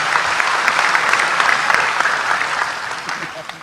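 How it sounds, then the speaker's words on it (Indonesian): Audience applause at an Indonesian Islamic study gathering with Gus Baha, sustained crowd clapping, fairly loud, easing off slightly toward the end. "Tepuk tangan untuk beliau"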